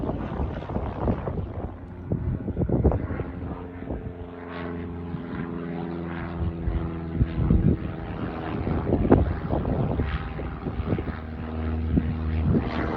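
A propeller airplane flying in to land over a farm, a continuous droning engine hum that wavers in loudness, with some wind buffeting on the microphone.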